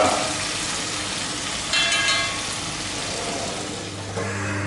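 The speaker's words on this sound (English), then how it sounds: "So that will just sear a little bit the onion again." Onion searing in a hot pan, a steady close sizzle with a brief louder burst of frying and some stirring.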